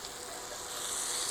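Sausage fries in a skillet with a soft, steady sizzle that swells slightly toward the end and stays fairly quiet throughout.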